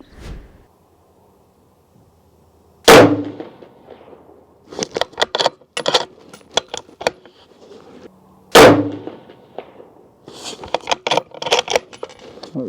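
A Horizon Vandal rifle fires two loud, sharp shots several seconds apart at an outdoor range, each followed by a run of metallic clicks and clinks from handling the action.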